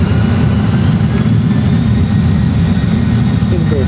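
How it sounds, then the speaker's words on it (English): Airliner jet engines roaring in reverse thrust just after touchdown at Madeira Airport, a loud, steady, heavy rumble with hiss that fills the whole stretch without a break. "So reverse thrust."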